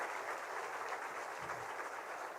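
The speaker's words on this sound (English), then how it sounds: "give me a round of applause" Soft, steady clapping from a crowd, an even patter of applause heard at a distance, fairly quiet and without voices.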